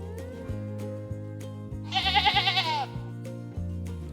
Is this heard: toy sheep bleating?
yes